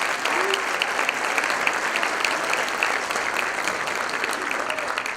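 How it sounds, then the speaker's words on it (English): A crowd applauds steadily at a National Honor Society induction ceremony, a dense even patter of many hands clapping that carries on without pause from start to finish. "A nice round of applause for Zeke again."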